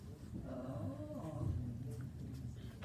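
Dogs playing with low growls and soft whimpering yips from a puppy, close and continuous for a few seconds.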